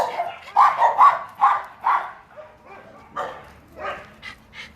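Several dogs bark excitedly at a person arriving, loud, close yips and barks in uneven bursts with brief whimpers between them.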